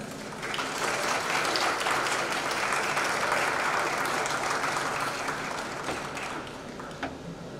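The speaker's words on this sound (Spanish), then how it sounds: "Le damos un aplauso." Steady applause from an audience at a tribute and closing ceremony honoring an artist, a dense, even wash of clapping that begins after a brief pause and holds for several seconds without talk.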